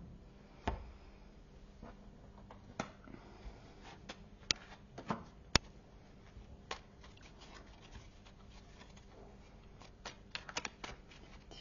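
Tarot cards being shuffled for a love reading, a soft continuous riffle of sliding cards with scattered sharper snaps and taps, close and quiet throughout.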